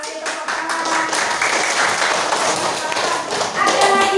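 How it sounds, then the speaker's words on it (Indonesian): Students clapping in an Indonesian classroom during a practice-teaching lesson, a loud, dense burst of hand claps with mixed taps and voices, continuing steadily. "Kita kasih tepuk tangan."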